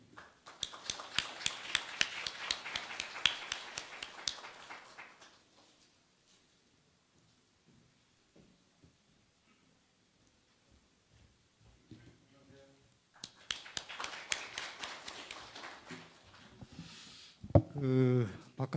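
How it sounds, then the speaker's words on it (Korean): Audience at a regional science and technology anniversary seminar claps to welcome the head of a provincial science institute: a burst of hand clapping, a quiet pause, then a second round of clapping that ends with close microphone noise. "큰 박수로 환영해 주시기 바랍니다"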